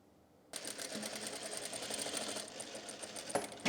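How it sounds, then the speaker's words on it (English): A sewing machine starts abruptly and runs steadily, stitching side seams on lightweight tulle with a close, even whir that ends in a couple of sharp clunks. "I'm just gonna go ahead and sew the side seams down too"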